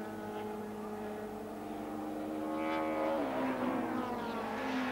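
Touring race cars of the 1995 STW championship running nose to tail at the Österreichring, engines howling together with shifting pitches as they pass, fairly distant and steady.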